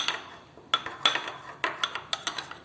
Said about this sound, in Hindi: अब इसे हम अच्छी तरह मिक्स कर लेंगे।